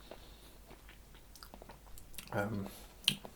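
Close, binaural chewing of a cured meat snack dressed with lemon oil: soft, wet mastication builds to a short, louder crunchy bite, followed by a sharp click.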